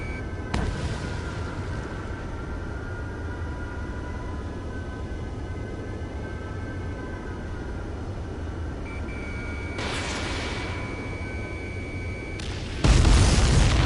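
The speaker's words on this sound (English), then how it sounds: "Hostile eliminated. Missile hit." Missile explosions in the jet combat video game Air Combat 7, heard as broadband booms over a steady engine drone, with a strong burst near the end and high whistling tones in between.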